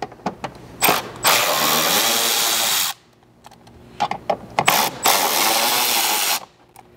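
A 4mm hex driver backs screws out of a Lexus GX 550 rear bumper in two loud, close whirring bursts, each a few seconds long, with short clicks around them and a quiet gap between.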